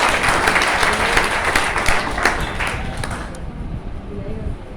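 An audience at a Raigarh executive conference claps loudly and continuously, the dense applause thinning slightly toward the end as a few voices murmur underneath.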